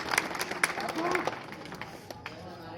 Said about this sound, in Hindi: ताली बजा करके स्वागत करो भाई गफूर साहब का